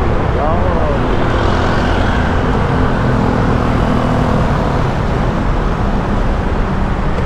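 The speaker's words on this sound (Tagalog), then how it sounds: "Traffic, siyempre" Morning road traffic on Manila streets heard from a motorcycle, a loud, steady roar of engines and road noise with a passing horn-like tone early on.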